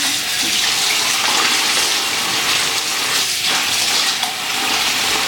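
Tap water runs steadily and loudly over produce being washed, a continuous close splashing hiss with slight shifts as the food moves under the stream.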